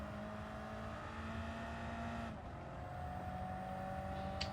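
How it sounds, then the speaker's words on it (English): A racing version of the Honda Civic Type R in Gran Turismo 7 drones with a steady engine note that drops abruptly at a shift partway through, then carries on at a lower pitch, close and moderately loud, with no talk. "That's the racing car version of the Civic Type R."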